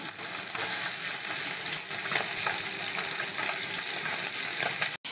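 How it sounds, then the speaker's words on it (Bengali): Fish sizzle and fry steadily in hot oil in a wok, a dense continuous crackle held at close range for the whole stretch with no voices, cutting off abruptly at the very end. "মাছগুলো ভাজা হচ্ছে"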